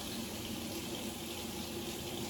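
Blueberries are rinsed under a running kitchen tap while making strawberry and blueberry jam, a steady, even stream of water splashing close by without pause or speech.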